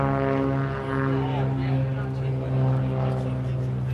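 Aircraft engines drone steadily along an airshow flight line at Sun 'n Fun, a continuous propeller hum under a person talking nearby.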